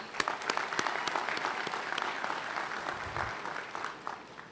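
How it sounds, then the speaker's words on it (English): Crowd applause for graduates at a community college graduation ceremony: dense, continuous clapping from many hands, with a few sharper claps standing out near the front, moderately loud and with no voices over it. "let's give our graduates one more round of applause"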